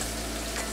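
Onions hitting hot oil in a wok, giving a brief, constant hiss of frying that fills the short moment at steady, moderate loudness.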